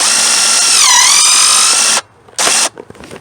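A DeWalt threaded rod cutter cutting a bolt whines loudly for about two seconds as its pitch dips under load, then stops and gives one short burst, close and clear with no talk.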